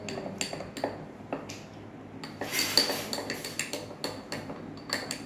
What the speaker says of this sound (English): you can mix on slowly